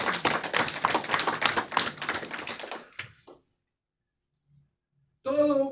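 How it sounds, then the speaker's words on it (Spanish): Congregation at a church service breaking into dense, rapid clapping for about three seconds, then fading into near silence before a voice speaks at the end. "Denle un aplauso al Señor"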